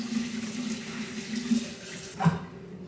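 Warm tap water runs steadily from a faucet into a container for propagating a monstera cutting, a continuous close hiss that stops abruptly near the end.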